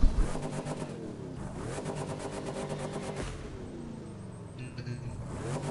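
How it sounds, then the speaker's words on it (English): A car engine revs and crackles with rapid backfire pops in the racing video game The Crew 2, a loud, continuous and rough roar. "Listen to the backfire."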